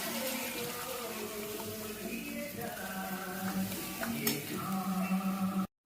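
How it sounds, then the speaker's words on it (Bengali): Water poured into a pan of oil-released frying masala for a vegetarian jackfruit kofta curry, a steady pouring and sizzling wash heard up close for several seconds with no one talking. "এবার এর মধ্যে আমি জল দিয়ে দেবো।"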